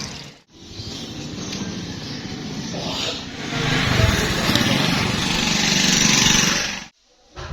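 A motorbike engine drones steadily while riding, loud and close with a rising, rough buzz that swells midway and cuts off near the end, with little talk over it.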